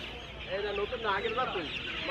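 Chickens cluck and call in short, wavering bursts at a village market in Bangladesh, close by over a low murmur of crowd noise.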